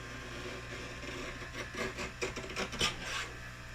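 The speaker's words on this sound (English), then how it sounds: "So I trimmed about a 1/16 off of each side." Quiet rasping and scraping as card edges are trimmed with a paper trimmer, a few short sliding strokes near the end over low background hum.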